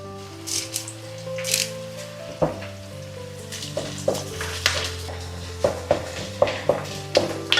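Curry leaves hit hot oil in a pan while frying for prawn pickle, producing a steady close sizzle broken by regular sharp clicks of a spoon stirring against the metal.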